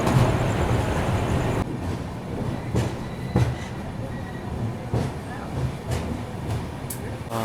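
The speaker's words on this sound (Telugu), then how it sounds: "ఇక్కడికైతే మన ట్రైన్ 10 minutes ఎర్లీగా చేరుకుంది" The KSR Bengaluru–MGR Chennai Central SF Mail rolls into Chennai Central with a steady rumble and periodic clacks of wheels over rail joints, people talking nearby.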